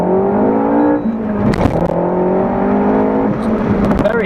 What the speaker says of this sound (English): Let's give it a little low down launch